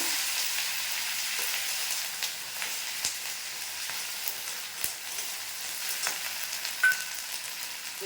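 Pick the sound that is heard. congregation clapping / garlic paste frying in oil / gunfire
garlic paste frying in oil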